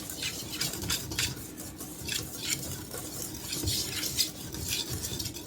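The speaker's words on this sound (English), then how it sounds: "Take a whisk. Let's blend this together a little bit." Dry flour and salt whisked together in a bowl, giving a steady brushing, scraping swish with faint clinks of the whisk against the bowl, close and continuous with no voices.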